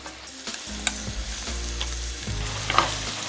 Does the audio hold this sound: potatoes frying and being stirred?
yes